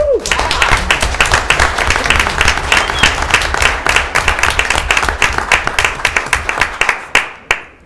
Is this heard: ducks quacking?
no